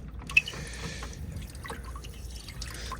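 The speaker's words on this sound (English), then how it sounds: "Turn the water off though" Water trickles and drips into a farm water trough on a borehole supply, a steady thin running sound with one sharper splash near the start, heard close and on its own.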